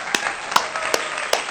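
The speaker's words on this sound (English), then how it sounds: "we're still faking the applause there." A few sharp claps of a fake applause sound effect, spaced about a second apart over a steady hiss, sounding thin and sparse rather than a full crowd.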